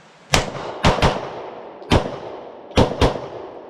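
Five sharp pistol shots from a Mossberg MC1 SC fired outdoors at a range, loud and close, spaced irregularly with a quick pair near the start and another pair near the end.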